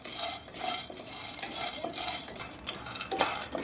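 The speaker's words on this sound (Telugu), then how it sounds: "బాండ్లీ తర్వాత ఈ పల్లీలు వేసుకొని ఇట్లా వేపుకోవాలి" Peanuts dry-roasting in a kadai on a stove, stirred with a metal spoon that scrapes and clinks against the pan in a steady stream of rustling, scratching strokes, close up and fairly quiet.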